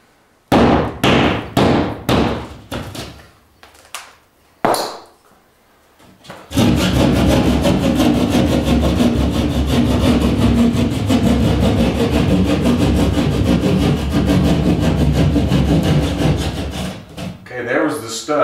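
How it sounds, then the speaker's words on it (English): A basic handheld sheetrock saw cutting drywall for a can light opening: a few sharp knocks and taps at first, then close, steady rasping saw strokes for about eleven seconds. "you can start cutting from there with a pretty basic sheetrock saw"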